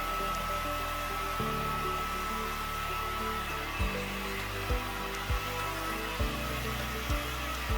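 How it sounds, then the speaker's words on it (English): A hair dryer runs continuously close by while blow drying a man's hair, a steady whirring drone whose pitch shifts a few times, with soft thumps in the second half as it is moved around. "blow dry the sides down, making sure everything's neat and tidy."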